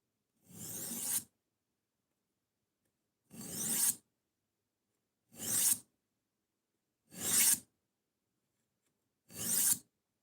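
A knife blade is drawn by hand across a sharpening stone, five separate rasping strokes spaced a couple of seconds apart, each rising in loudness, close and alone with silence between.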